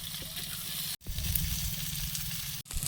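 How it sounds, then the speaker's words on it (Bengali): Chopped onion and slit green chillies sizzle steadily in hot oil in a pan while a fish curry is cooked, a close, continuous crackling fry broken by two brief drops to near silence. "পেঁয়াজ কাঁচা লঙ্কা ভাজা ভাজা হয়েছে"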